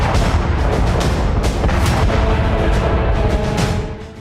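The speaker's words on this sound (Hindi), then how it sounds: "गोलियों के बदले गोला दागा जाता है और भारतीय तोप की मार से सरहद पार खलबली मच जाती है" Indian artillery cannon firing across the border, heavy booming blasts and rumbling that fill the whole stretch, loud and dense, fading slightly at the end.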